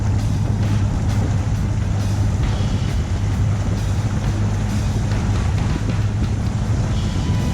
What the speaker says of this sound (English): You go ahead and put your boat in gear.